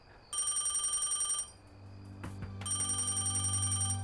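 A telephone rings for an incoming call in an office setting, its bright electronic bell trilling in two bursts separated by a short gap with a few soft thuds, fairly close and clear, with no talk over it.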